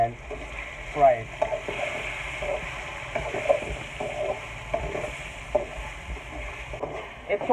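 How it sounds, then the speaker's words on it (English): Small chicken pieces frying in oil with garlic in a home kitchen, a soft continuous sizzle with occasional stirring scrapes and clatters, moderately quiet. "And fry it."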